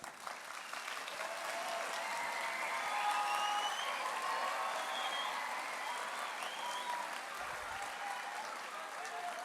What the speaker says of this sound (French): j'aimerais d'abord que vous puissiez vous faire un tonnerre d'applaudissements